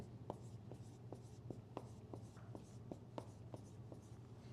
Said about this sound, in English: So I'm going to write a billion here.